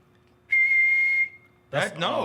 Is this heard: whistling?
yes